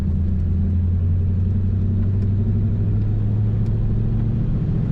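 A 1940 Ford Standard 5-Window Coupe idles nearby with a steady, low rumbling engine note that stays even for the whole five seconds.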